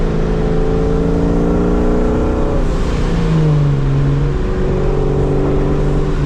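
A boosted NewEdge Ford Mustang with a 2-valve engine revs loudly from up close. The engine note climbs, then dips and swells again with a whirring boost sound layered over the rumble.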